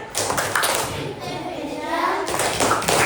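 A fifth-grade class claps the rhythmic 'tepuk AI' chant in a classroom, with bursts of claps near the start and end mixed with children's voices and a teacher talking.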